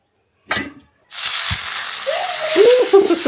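Milk is poured over bread banana toast in a home kitchen: a short knock is followed by a steady, close hissing rush that lasts a couple of seconds.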